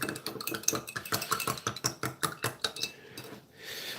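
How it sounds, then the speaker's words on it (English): Pink flamingo stirrer clinking rapidly against a glass or dish, a steady run of bright, close taps for several seconds before stopping. "So, we stir this with the pink flamingo."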